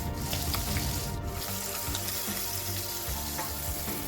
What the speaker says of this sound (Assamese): এতিয়া মই মাছৰ পেটু আৰু তেলখিনি ভাজি ল'ম ফাৰ্ষ্টতে